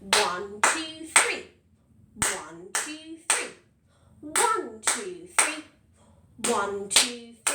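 Rhythmic hand clapping in a primary school music lesson, groups of three close, crisp claps followed by a silent gap for the missing fourth beat, repeated several times while a voice counts aloud along with the claps.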